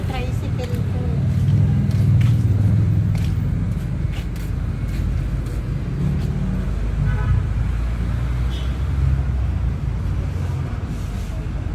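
A tricycle maneuvers into a tight parking space, its engine rumbling steadily close by with road traffic around it, while people talk over the motor throughout.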